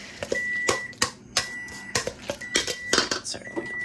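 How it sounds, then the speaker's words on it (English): A kitchen timer beeps in short repeated electronic bursts, about four separate runs of steady tone, amid clattering dishes and cutlery in a home kitchen while carbonara is being made. "let me get this timer off, driving everybody crazy"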